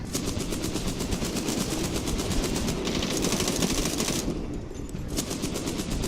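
Dense, continuous machine-gun fire from the Medal of Honor video game, loud and sustained with rapid rattling bursts that barely pause, a short dip near the end before the shooting resumes.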